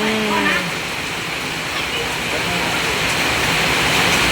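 Steady rainfall makes an even, wide hiss that stays constant throughout, with a voice briefly audible at the start.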